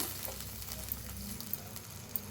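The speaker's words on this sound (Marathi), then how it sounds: "तर असं थोडंसं मसाला बी चांगला भाजला जातोय" Ground chili spice masala sizzles steadily while roasting in a pan for baingan bharta, a close, continuous frying hiss with faint stirring scrapes and no voices.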